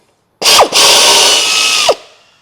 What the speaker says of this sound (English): Just going to run this bottom bolt in.